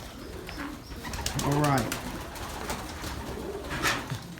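Homing pigeons coo inside a loft, with one clear throaty coo near the middle and soft rustling and shuffling around it, while someone speaks briefly.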